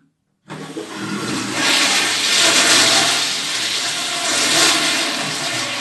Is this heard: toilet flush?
yes